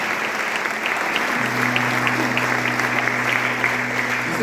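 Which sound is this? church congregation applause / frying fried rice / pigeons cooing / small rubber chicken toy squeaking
church congregation applause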